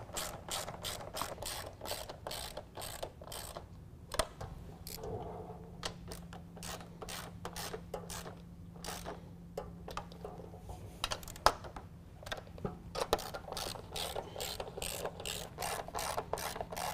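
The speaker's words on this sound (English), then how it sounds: "Top 2 nuts, you probably will have to get an extension to tighten those down." Ratchet wrench tightening the grille nuts on a 2017 Ford F-150 during an LED grille install, heard as steady, close, rapid clicking in quick repeated runs, with a few louder knocks mixed in.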